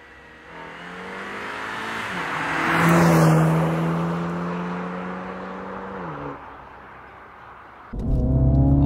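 A 2022 Mini Cooper JCW drives on a road, its engine rising into a strong rev with shifting gear tones, easing back, then surging loudly again near the end.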